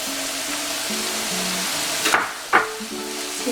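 Rice hitting a hot frying pan for Cajun dirty rice, a steady close sizzle with a low humming tone and two sharp scrapes or clacks of the spoon near the end, no speech.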